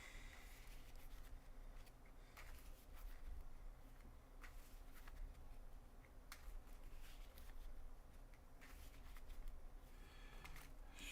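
A deck of Magic: The Gathering Commander cards being shuffled by hand, a run of quiet papery riffles and flicks repeating through the stretch, soft and close with faint room noise underneath.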